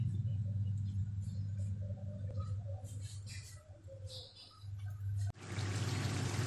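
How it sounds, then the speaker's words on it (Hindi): Chicken yakhni stock being strained, a steady pouring, trickling wash of liquid running continuously over a low rumbling background, with a brief clatter near the end. "मीनवाइल हम लोग यखनी स्ट्रेन कर लेंगे"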